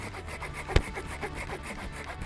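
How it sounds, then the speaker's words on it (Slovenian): A small pruning saw draws back and forth through a young fruit tree branch in rhythmic rasping strokes, close and fairly quiet, with one sharp knock partway through. "preprosto tukaj lahko odžagamo celotno vejo, zato uporabimo sadjarsko žagico."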